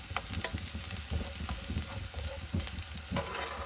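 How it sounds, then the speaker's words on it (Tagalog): Garlic sautéing in a little coconut oil, with a constant bright sizzle and frying crackle and occasional stirring scrapes in a pan, close and alone. "Sangagin natin sa kunting mantika na coconut oil ang bawang"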